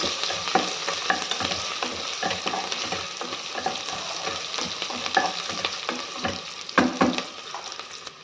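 Onions frying in a pan for pesara pappu pongal give a steady, close hiss of hot oil, broken by repeated scraping strokes and clacks of a spatula stirring them, loud and with no one speaking.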